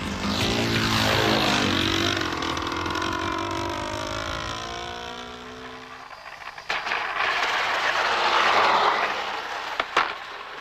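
A propeller plane passes close and loud, its engine drone sweeping down in pitch as it flies by and fades into wind and rustle, followed by a couple of sharp knocks near the end.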